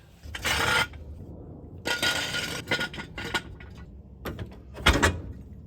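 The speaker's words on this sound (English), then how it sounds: "And this means that I've got to move the jack stands." Metal jack stands being shifted and set down under a vehicle on a garage floor, several separate loud clanks and scrapes spread across a few seconds with brief pauses between.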